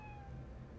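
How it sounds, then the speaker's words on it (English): A cat meows once in the video game Travellers Rest, a short, faint tonal call over a low background hum. "Kitty! Let me pet you."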